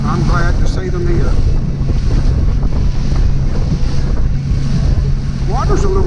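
A boat moves across choppy water on Lake Guntersville on a holiday outing, with loud continuous wind buffeting and water rushing against the hull, plus faint voices in the background.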